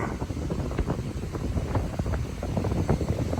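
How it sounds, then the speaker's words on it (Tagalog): Strong wind on a footbridge near Dolomite Beach in Manila roars and buffets the microphone in continuous low gusts, loud and close, with no voices. "sobrang lakas ng hangin"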